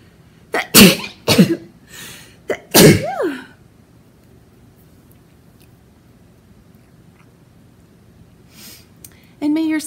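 Three sharp, loud sneezes close together near the start, the last trailing into a brief voiced squeak, followed by a long stretch of near silence.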